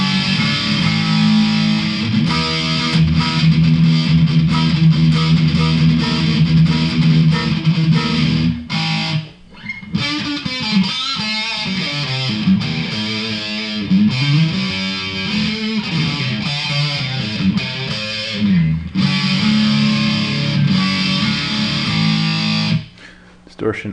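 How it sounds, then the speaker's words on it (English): Guitar played through a Keeley-modded Boss DS-1 distortion pedal set at 3 o'clock, producing thick, buzzing chords and riffs with short breaks and pauses throughout. "let's hear what it sounds like with distortion at 3 o'clock."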